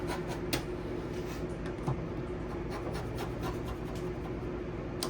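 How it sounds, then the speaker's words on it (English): Rotary cutter slicing notches into quilted fabric for a tote bag, soft scratchy rolling cuts with a few sharper clicks, quiet and close. "I'm just going to use my rotary cutter."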